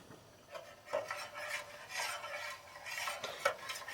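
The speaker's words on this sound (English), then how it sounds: "And continually stir the milk until it comes up to a temperature where it starts to bubble along the edges" A spoon stirs milk in a pot on a stove set to medium low, for a grape-nut custard, making repeated soft scraping strokes at a steady rhythm, close and alone.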